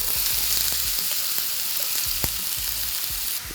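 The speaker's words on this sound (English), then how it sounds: "Adding in the onions." Onions hiss and sizzle steadily in a pan over a gas flame with caramelizing brown sugar, a close, continuous frying crackle with a few soft knocks of a utensil.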